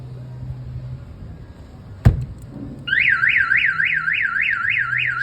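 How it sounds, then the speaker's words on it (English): Viper alarm on a 2001 Chevrolet Silverado Z71 gives a sharp chirp after a thump, then a loud warbling electronic siren starts and cycles steadily, close by. "it's going to give you a warning chirp"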